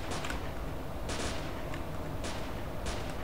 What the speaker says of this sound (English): someone's shooting at the military